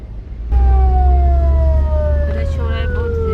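An ambulance siren wails close by in heavy traffic on a road in Hyderabad, its tone sliding downward loudly over a low rumble of engines, with voices talking in the vehicle.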